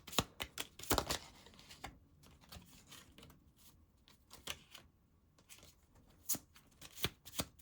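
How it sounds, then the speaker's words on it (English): Oracle cards are shuffled by hand in quiet, soft irregular riffling bursts and papery slaps, close and faint, with brief pauses between handfuls. "I want to pull some oracle cards"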